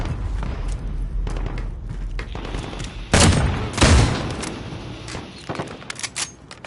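Gunfire from a shotgun in the shooter game Modern Warfare, two loud booming blasts standing out over continuous game noise and scattered distant shots.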